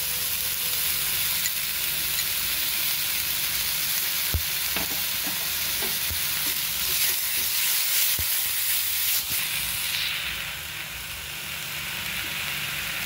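Ginger, garlic and green chilli paste frying in a pan, a steady loud sizzle and hiss with a few stirring clicks and scrapes, easing slightly near the end.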